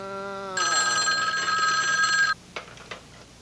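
A telephone bell rings once, loud and close, for nearly two seconds after a low dialing-tone sequence, then cuts off, followed by a few faint clicks.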